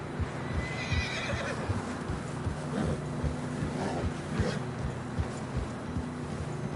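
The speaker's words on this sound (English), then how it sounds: "Horses are struggling." Horses whinny and snort over a steady low rumble, with scattered hoof clops throughout, struggling through fresh snow in Red Dead Redemption 2.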